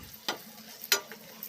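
Spices, curry leaves, ginger paste and masala powder frying in a pan for spinach prawn curry, a soft sizzle with two sharp stirring scrapes, close and quiet.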